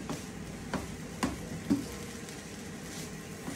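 Egg fried rice, chahan style, frying in a pan with egg added, a faint steady sizzle under a few sharp clinks of a utensil against the pan at regular intervals.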